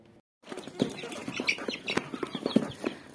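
Close pecking and scratching of chickens at feed, quick irregular taps and rustles, with occasional soft clucks and wing flutters.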